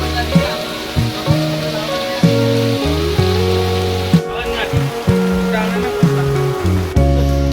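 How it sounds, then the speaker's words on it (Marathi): Heavy rain roars continuously during a thunderstorm and power cut in Nanded, India, while a voice is heard faintly over the downpour. "पाण्याचा आवाज बघू शकतात"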